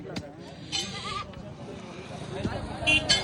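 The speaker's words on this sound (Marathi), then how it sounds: "हे बघा इकडे बकरी कशी रावली" A goat bleats a few times, short wavering cries at moderate distance, amid outdoor background noise and some talking.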